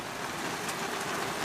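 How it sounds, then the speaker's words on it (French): Steady rain patters and hisses on surfaces nearby, a dense continuous wash of drops with no voices. "Donc là il pleut"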